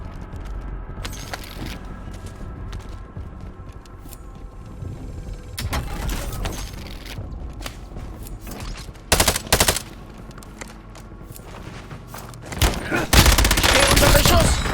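Gunfire in the video game Warzone Resurgence, with scattered shots and mechanical clicks building to louder bursts of automatic fire near the end, against a busy game soundscape.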